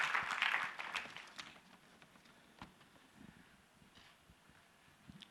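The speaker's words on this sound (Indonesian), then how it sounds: "Kalau saudara mau berikan tepuk tangan supaya Pak Samuel yang menjelaskan." Brief burst of clapping from a church revival congregation, dense at first and quickly thinning into scattered claps, fairly faint and distant.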